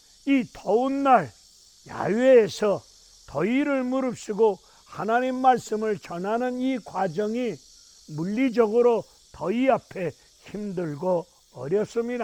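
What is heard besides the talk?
cicadas buzzing outdoors on a hot day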